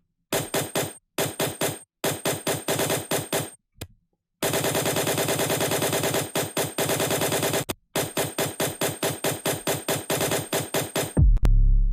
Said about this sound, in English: it's a very machine gun bass as well